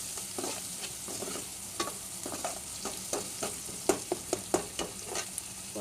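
Turmeric-dusted food sautéing in a pan for baby food, a steady sizzle under repeated sharp clinks and scrapes of a spoon stirring against the metal, the stirring picking up toward the end; no one speaks.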